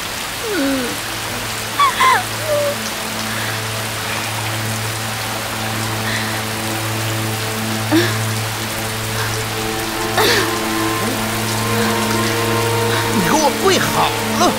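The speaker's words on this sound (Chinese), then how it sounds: "这雨可是越下越大了" Steady, dense rain falls heavily and evenly throughout, with occasional louder splashes and drips, while a low drone of music and a few voices sit under it.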